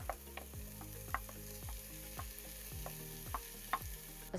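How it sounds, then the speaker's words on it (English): Shallots, garlic and porcini mushrooms sauté in olive oil in a pan, giving a steady close sizzle broken by repeated stirring scrapes and light knocks throughout. "In a pan, add some olive oil, chop shallots and garlic and cook for a few minutes until they soften"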